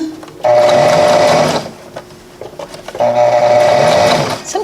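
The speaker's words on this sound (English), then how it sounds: "Sometimes you can sew it and then just keep sewing it till you get as close as you need" A sewing machine stitching fabric runs in two loud, steady bursts of rapid whirring, separated by a brief quieter pause.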